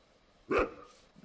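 A single short dog bark from a Minecraft game, clear and moderately close, standing alone in a quiet moment.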